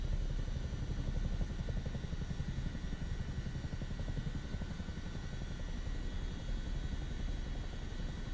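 Chinook helicopter rotor blades in Microsoft Flight Simulator 2024, a steady rapid thudding chop over a dense engine roar, continuous and fairly even throughout, no talk.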